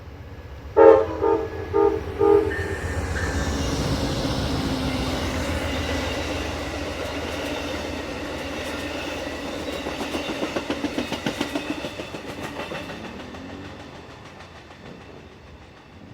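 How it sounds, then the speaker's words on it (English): Amtrak's Maple Leaf passenger train bound for Toronto Union Station on the CN Halton Subdivision sounds several loud horn blasts, then passes with a long steady rumble and clickety-clack of wheels that fades away toward the end. "the final train of the evening would be the Amtrak Maple Leaf on its way to Toronto Union Station"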